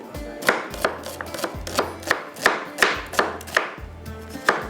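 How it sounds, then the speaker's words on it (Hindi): A knife chopping an onion on a board in a home kitchen, with a steady series of about a dozen sharp, close cuts at an even rhythm and no talking. "यहाँ पर कटिंग कर लेते हैं एक प्याज को"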